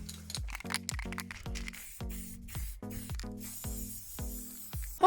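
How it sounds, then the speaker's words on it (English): Short repeated bursts from a spray can of pastel chalk paint being sprayed onto craft letters, about a dozen quick hissing puffs in an uneven rhythm, close by and fairly quiet. "I can spray paint my letters."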